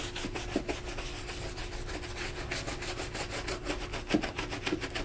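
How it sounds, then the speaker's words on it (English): Leather boots get scrubbed with a horsehair brush and sudsy cleaner, a steady close-up rubbing of bristles with rhythmic back-and-forth strokes and occasional soft knocks. "I get right to scrubbing."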